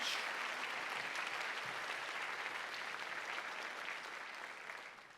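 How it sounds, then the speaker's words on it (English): At a Nova Scotia Community College Akerley Campus convocation, an audience claps in sustained, dense applause that holds steady and then fades slightly toward the end, heard alone without talk. "And I think that deserves a huge round of applause."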